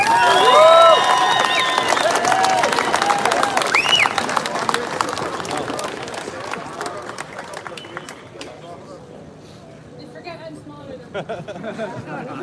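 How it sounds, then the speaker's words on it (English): Outdoor crowd at a free speech rally at Custom House in Dublin breaks into sustained clapping and cheering with whistles and shouts, gradually fading into scattered claps and chatter. "so build a applause for Patrice Shelton."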